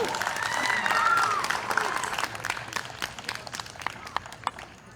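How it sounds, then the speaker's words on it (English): An audience at a Hispanic Heritage Month community event applauds a local shop owner, with full clapping at first that thins to scattered individual claps, and some talk and a brief whoop over it. "Let's give him a big round of applause."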